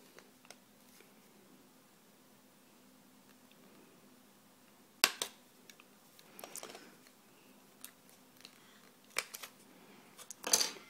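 Sharp, scattered snips and crunches of plastic being cut from a Wii steering wheel accessory, quiet and close, with a burst of clicks near the end and no talking.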